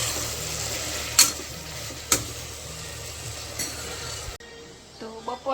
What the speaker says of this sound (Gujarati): આપણે ગુવારનું શાક મસ્ત મજાનું તીખું તમતમ તો વઘારી નાખ્યું છે.